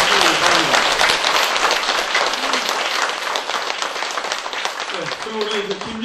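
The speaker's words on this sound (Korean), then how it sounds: "다시 한번 뜨거운 박수를 보내주시기 바랍니다." Dense, sustained audience applause at a Buddhist monk's book-launch ceremony, loud and continuous for six seconds, with a few voices speaking over it near the start and again near the end.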